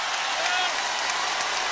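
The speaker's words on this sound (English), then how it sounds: "And the crowd trying to urge him on." Basketball arena crowd during an NBA playoff game, Pacers against Cavaliers, a dense sustained roar and scattered clapping filling the space as the crowd urges on a free throw.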